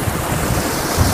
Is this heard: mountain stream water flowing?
yes